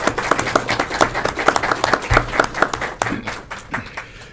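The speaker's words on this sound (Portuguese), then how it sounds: "convidar para que venha ao palco, por gentileza, sob nossos aplausos, Alexandre Guerra" An audience claps and applauds to welcome a speaker onto a stage at a business event, a close, lively burst of many hands clapping that thins slightly toward the end.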